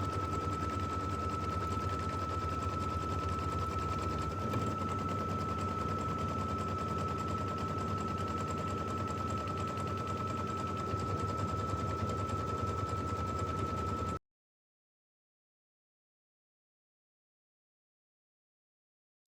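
An embroidery machine stitches a batting placement line for a Kimberbell quilt block, giving a steady, rapid mechanical rattle with a constant hum for about fourteen seconds, then stops abruptly into silence.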